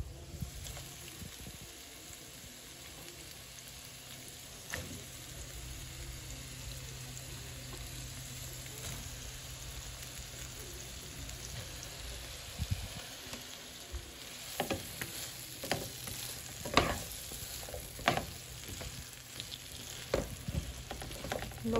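Carrots and chiles sizzling in a pan for homemade pickled chiles, a quiet steady hiss broken by intermittent scraping stirs that grow busier toward the end.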